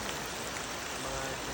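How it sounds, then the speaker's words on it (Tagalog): Heavy rain pours down outdoors at Lumutan, a dense, steady hiss of drops striking surfaces that holds constant and close throughout, with a voice faintly underneath. "So malakas na yung ulan."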